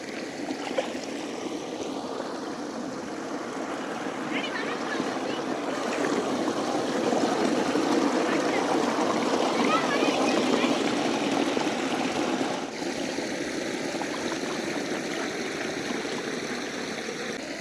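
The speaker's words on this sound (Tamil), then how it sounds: "தண்ணி அழகா கொட்டுதுல." Water pours and splashes steadily beside a boat, a continuous rushing wash that swells in the middle and eases slightly toward the end, with faint voices underneath.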